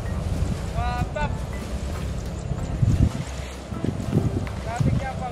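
Strong gusts rumble and buffet the microphone outdoors while a black six-metre Alaska worm kite is flown, with low roaring wind throughout and brief voices and chatter over it.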